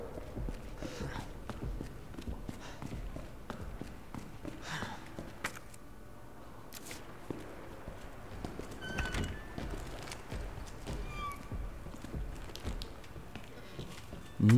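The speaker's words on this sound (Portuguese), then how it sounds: "Nossa, dá pra ouvir os passos dele" Footsteps of a pursuer stalking through the halls in the Resident Evil 2 Remake, a steady run of faint, distant heavy treads over quiet game ambience with a few louder knocks.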